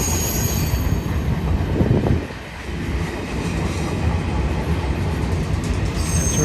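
A freight train of empty rail cars rolls past nearby, a loud continuous rumble of wheels and rattling cars with a brief squeal, steady throughout.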